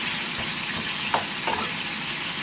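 Burger patty frying in oil in a pan, a steady close sizzle and hiss that continues without a break, with a couple of faint clinks partway through.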